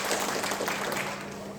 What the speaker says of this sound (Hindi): एक जोरदार तालियां साहब के लिए